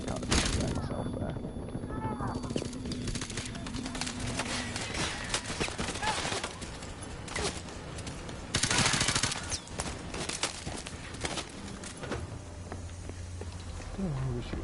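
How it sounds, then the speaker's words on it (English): Gunfire from the video game Call of Duty 4: Modern Warfare Remastered, with dense bursts of rapid shots throughout and a heavy volley near the middle, while a voice talks over the combat. "Don't know who was shooting that."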